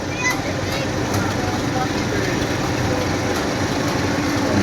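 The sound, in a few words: 1957 D17 tractor engine running in a parade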